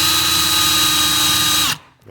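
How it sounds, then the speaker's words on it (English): A power drill spins its chuck while pressed hard into the end of a metal tube to flare it, giving a steady, loud, high motor whine for under two seconds before it abruptly cuts off. "you take the chuck, you put it in the end here, and you just drill and apply quite a bit of pressure."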